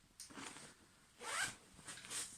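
A backpack zipper is drawn in a few quick separate pulls, close and fairly quiet, with short pauses between strokes.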